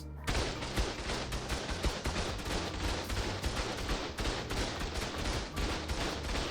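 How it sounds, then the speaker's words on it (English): Automated turrets in ARK fire a dense, sustained barrage of rapid gunshots, loud and unbroken throughout with no pauses. "I'm just going to sit here and soak everything. That's a lot of auto turrets."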